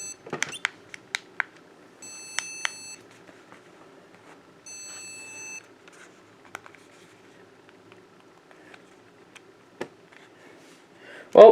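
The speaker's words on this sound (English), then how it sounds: "This one uses a beeper speaker." A MicroArcade handheld game's beeper speaker gives short, thin electronic tones in two bursts among scattered clicks and taps, fairly quiet and close, with a brief louder noise at the end.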